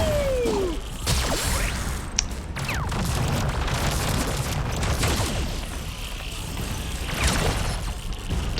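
Explosion attacks in the game Dune Bug Dune Mage, with repeated whooshing blasts and thuds layered over a dense, continuous wash of combat noise.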